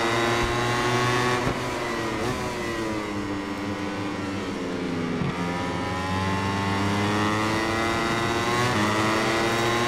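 Racing motorcycle engines, a Ducati among them, wail loud and steady in MotoGP 21 as a sustained high-revving roar with shifting pitch, close and continuous throughout.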